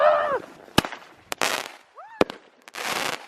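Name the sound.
fireworks being set off in Moscow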